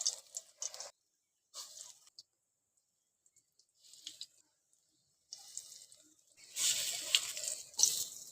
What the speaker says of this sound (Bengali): এবার আমি এটাকে ভেজে নেব।